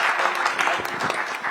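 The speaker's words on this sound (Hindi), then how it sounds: "तो उनके लिए ताली वाली बजा दो" Applause from an audience at a sports awards ceremony in Bhopal, a dense steady patter of many hands clapping throughout, fairly close and moderately loud.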